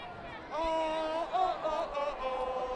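Crowd at a high school varsity football game between Joplin and Ozark, a brief burst of cheering and shouting voices swelling in the stands at moderate distance, with a few tonal calls rising above the mass.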